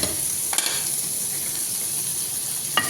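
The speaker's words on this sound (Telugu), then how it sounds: "ఇది ఫ్రై చేసుకుందాం." Ginger, garlic and cumin frying in melted butter in a pan, a steady soft sizzle throughout with a couple of brief stirring clinks, close and moderately loud.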